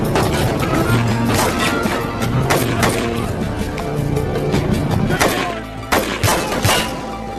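Film gunfight between police and a cartel gang at a border, loud rapid bursts of gunfire with crashing impacts and smashing debris over a dense score, with some voices mixed in.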